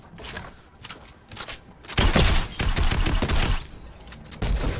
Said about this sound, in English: another guy just comes in randomly and just starts shooting me